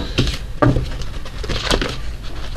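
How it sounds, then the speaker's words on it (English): Tarot cards shuffled by hand during a love reading: a few quick papery riffles and soft slaps, close and moderately loud, with no voices. "I'm not having a good time shuffling these today."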